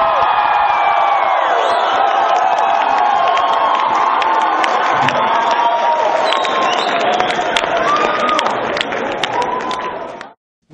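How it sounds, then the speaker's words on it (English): A crowd at an airline cabin crew night applauds and cheers loudly, with whoops and shouts over dense clapping that holds steady and then cuts off abruptly. "a round of applause, a loud one for David Foster"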